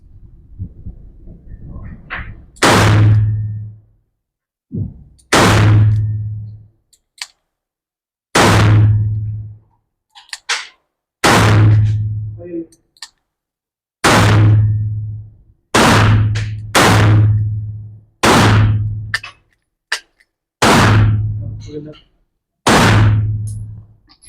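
Alfa Project 2-inch revolver firing about ten loud, sharp shots at irregular intervals of roughly two to three seconds, each a hard broadband crack with a short decay.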